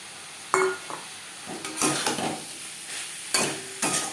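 Fried teasel gourd being stirred into a coconut spice paste in a pan, with several scraping stirs and clinks of a spatula over a soft, continuous sizzle, close and with no talking.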